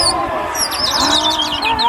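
Pigeons and other birds on a rooftop in Pakistan call and chirp continuously, with fluttery tweets over a steady outdoor background hum.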